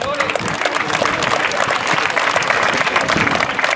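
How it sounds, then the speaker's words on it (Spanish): An audience at a Día de Reyes festival in Loma Bonita gives steady, dense applause throughout, with voices mixed into the clapping. "pido un fuerte aplauso para..."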